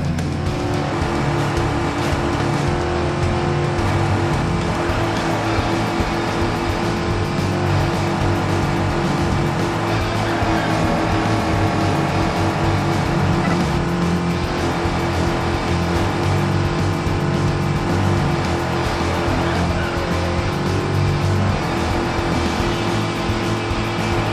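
Race cars from the Cars Race-O-Rama video game speed around a race track with a continuous, dense engine roar and whine that stays loud and steady throughout, with no speech.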